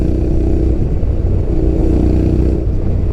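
Honda X-ADV 750 scooter fitted with an aftermarket exhaust, its engine droning steadily and loudly throughout, close by, with no talk.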